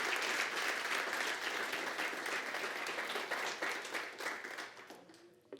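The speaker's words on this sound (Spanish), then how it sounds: "pido un aplauso para ella" Church congregation giving a sustained round of applause for a woman, thick steady clapping that thins and fades toward the end, a voice entering faintly at the close.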